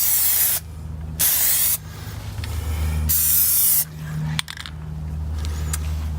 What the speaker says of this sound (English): Just do good spray painting process.